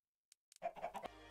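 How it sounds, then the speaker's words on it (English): Chickens cluck in the video game Desertopolis: a few faint ticks, then a short burst of close, clucking calls lasting under a second before a low background hum takes over. "I'm going to get some more chickens grown."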